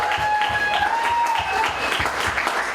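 Comedy club crowd applauding at the end of a stand-up set, steady dense clapping with a few whistles riding over it, loud and close throughout.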